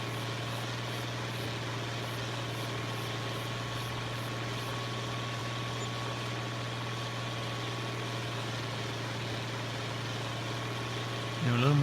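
A tractor engine idling in Farming Simulator 25, a steady low drone with a faint hum that runs evenly for the whole stretch, with a brief louder disturbance at the very end.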